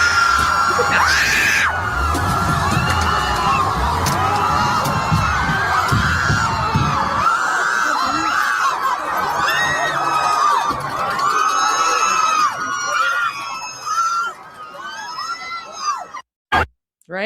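A crowd of peaceful people screaming and shouting as a vehicle drives through them, loud, dense and continuous, with high shrieks layered over low rumble that drops away near the end.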